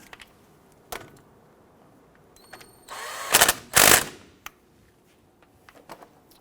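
A wrench snugs a brake hose fitting into the caliper of a Nissan Frontier, heard as two short loud ratcheting bursts among faint clicks and otherwise quiet surroundings.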